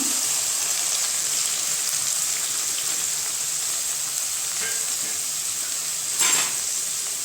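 Two finely chopped onions frying in a pan, heard as a constant close hiss with little variation and a brief louder burst near the end, with no voices.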